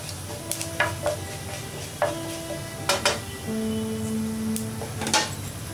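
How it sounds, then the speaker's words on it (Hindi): A spoon stirs mustard and cumin seeds in hot oil, metal clinking and scraping against the pan in several taps over a steady sizzle, close and without talk. "उसको थोड़ा हम चम्मच से स्टर कर लेंगे,"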